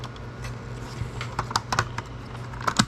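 A GameCube console part pressed into place gives a few small plastic clicks and taps in quick succession, close up against a low background hum, with no voices.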